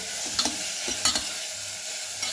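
Tomatoes and vegetables are stirred in a sizzling pan, with a few close spoon scrapes over a steady frying hiss.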